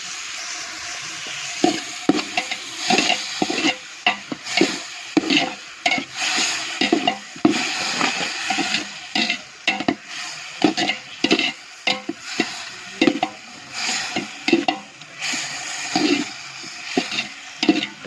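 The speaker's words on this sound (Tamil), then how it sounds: "தக்காளி நல்லா வதங்கிட்டு இருக்கு" Tomatoes sautéing with a little rock salt in a pan for tomato rice, a steady close sizzle broken by repeated scraping stirs of the spoon in an irregular rhythm, with no talking.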